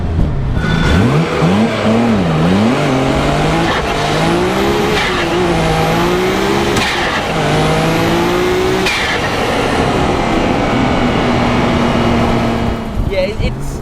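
A 600hp twin-turbo 2.6-litre Nissan Skyline R32 GT-R engine revs hard and climbs through the gears, its pitch rising and dropping with each shift, loud and close, with a voice talking over it.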